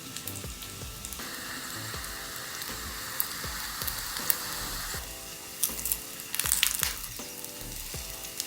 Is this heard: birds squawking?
no